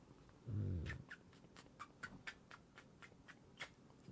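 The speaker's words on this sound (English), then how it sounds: "Speak of the devil. This is Charlie Cat" A house cat meowing indoors: one short, fairly loud meow near the start, then soft scattered clicks and small sounds, close by and quiet overall.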